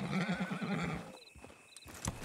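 A horse whinnies loudly in a wavering neigh in the video game Red Dead Redemption 2, followed by a few hoof clops and small clicking sounds.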